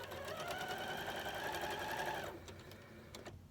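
Sewing machine stitching rows of quilt squares: a fast, even mechanical whirring close by for about two seconds, then it stops, leaving a few faint clicks.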